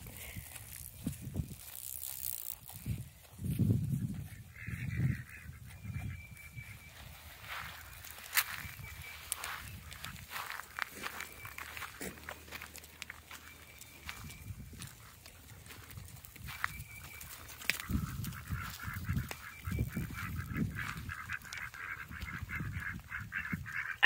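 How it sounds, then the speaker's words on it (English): Ducks on a pond beside a big pasture give scattered honking, quacking calls over a low outdoor background. The calls are moderately distant and come intermittently. "I love watching the ducks on the pond."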